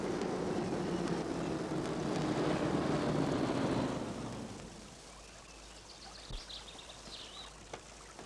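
A waterfall pours as a steady, dense rush of water for about four seconds, then fades to a quieter outdoor hush broken by a few faint knocks, with no voices.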